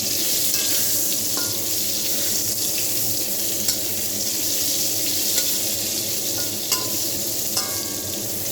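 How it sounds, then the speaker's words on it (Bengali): Pointed gourd and eggplant frying in a pan give a steady, dense sizzle that runs unbroken throughout, with a few faint clinks and no one speaking. "আর এই যে এখানে পটল আর বেগুন ভাজছি"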